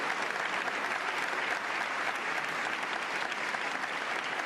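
An audience at a ceremony claps in sustained, dense applause, a steady wash of many hands without pauses, loud and continuous throughout.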